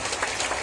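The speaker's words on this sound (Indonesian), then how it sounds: "tepuk tangan dulu untuk kita semua di sini" Dense, steady applause from a seminar audience at a motivation event, a continuous broadband patter of many hands filling the short moment at even loudness.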